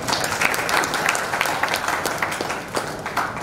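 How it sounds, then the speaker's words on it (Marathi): An audience at a children's poetry gathering applauds after a poem about mothers is recited, a dense burst of clapping from many hands that stays loud and even throughout. "एकदा जोरदार टाळ्या"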